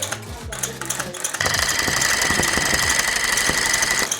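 A tufting gun fills in a rug design at a London tufting studio, starting with a few short bursts and then settling into a loud, continuous rapid mechanical buzz that runs right up close.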